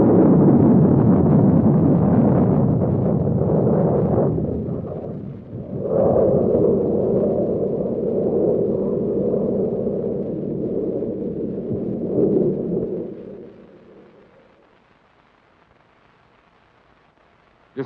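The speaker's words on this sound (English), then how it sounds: "An Army Nike Hercules was to go against a target of equal power and speed, another Nike Hercules missile" A Nike Hercules surface-to-air missile launching at White Sands Missile Range to intercept another Nike Hercules target: a loud, sustained roaring rumble that wavers for about twelve seconds, then fades away into near silence.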